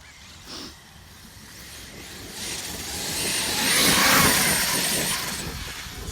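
A Traxxas X-Maxx 8S brushless RC monster truck with a Hobbywing 1650KV motor passes by outdoors as a whining, rushing swell that builds from faint to loud, peaks around the two-thirds point, then fades off.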